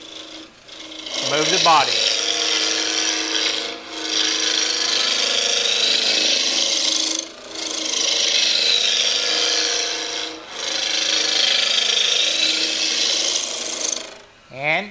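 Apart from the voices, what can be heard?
spindle roughing gouge cutting wood on a lathe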